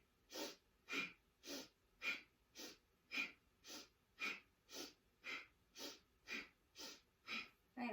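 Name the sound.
bellows breath, sniffing and puffing breathing exercise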